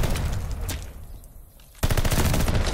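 Heavy automatic gunfire rattles at a contested hard point in the Call of Duty Vanguard video game, with dense continuous bursts that thin out briefly near the middle and then return loud and close.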